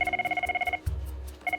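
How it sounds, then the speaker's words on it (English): A scramble phone at the RAF Topcliffe air ambulance base rings in quick pulsing electronic bursts, breaks off with a low thump, then starts ringing again. "But now, the scramble phone is ringing."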